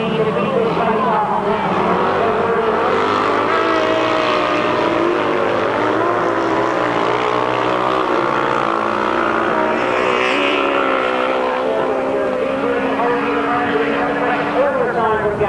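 1000cc right-hand sidecar outfits race on a grass track at a 1992 bonfire meeting. Their engines drone steadily and loudly for the whole stretch, and a commentator seems to talk over them.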